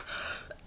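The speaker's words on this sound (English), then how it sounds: "If I'm not dead from this cough" A single short, sharp cough bursts out at the very end after a faint, quiet stretch, close and loud, from a man recording a My Little Pony game playthrough.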